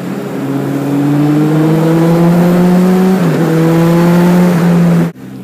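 Loud, close motorbike engine revving in traffic, a strong rising drone that holds, dips briefly and climbs again before cutting off abruptly near the end.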